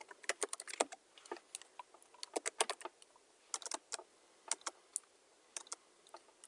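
Typing on a computer keyboard, a rapid uneven run of light, crisp key clicks close by in a quiet room, with brief pauses between bursts of keystrokes.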